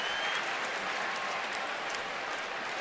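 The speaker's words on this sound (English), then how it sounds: "Crowd getting into it a little bit." Crowd at a Phillies–Nationals baseball game in Washington stirring with scattered applause and cheering, a steady distant wash of noise with no single claps standing out.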